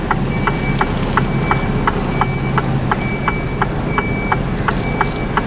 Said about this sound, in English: And then now they're backing me out onto the main road